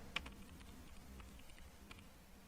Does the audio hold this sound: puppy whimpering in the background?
no